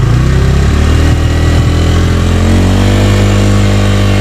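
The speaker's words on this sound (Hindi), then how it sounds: "यहीं पे हम और थोड़ा आरपीएम बढ़ा देते हैं इसका" A 2024 Bajaj Pulsar N150 motorcycle engine runs loud and close with no talk, its pitch climbing steadily as the revs rise to a higher RPM and hold there.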